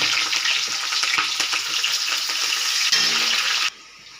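Chopped onion and green chili hit hot oil with whole garam masala, bay leaf and peppercorns, for chicken kosha, giving a loud, continuous close sizzle that cuts off abruptly near the end.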